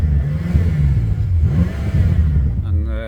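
A BMW M6 with a 4.4-litre engine and hi-flow downpipes idles and revs close by, a steady, fairly muted low exhaust drone that swells slightly, with a faint voice at the end.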